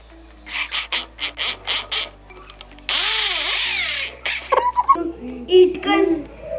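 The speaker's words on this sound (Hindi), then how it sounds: "अब सबसे पहले अपने सेंटर करके ड्रिल मशीन से होल कर देंगे।" A handheld drill machine bores a hole while someone builds a low-cost foldable table. The drill whines in a single rising and falling burst of a little over a second, after a series of rhythmic rubbing strokes, and a person talks after it.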